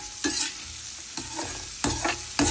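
Chopped onions tipped into hot oil for an ash gourd curry crackle and sizzle steadily, stirred with a few sharp scrapes against the pan.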